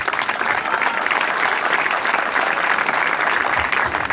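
A crowd at a secondary school graduation applauds steadily, a dense, even patter of many hands clapping throughout.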